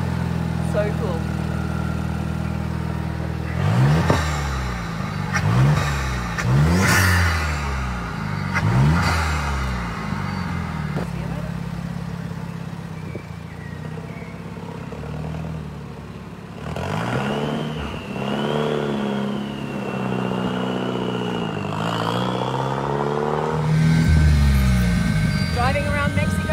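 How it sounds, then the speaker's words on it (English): A VUHL supercar with a manual gearbox drives around Mexico City, its engine rising in several repeated revs before a longer climbing pull, loud and near, with a voice talking over parts of it. "Driving around Mexico City in the VUHL, the supercar here."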